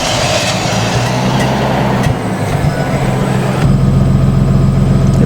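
A Nissan R32 Skyline, just fitted with a fuel pump taken from a 240, cranks and starts, then settles into a loud, steady idle with a deep, continuous rumble close by.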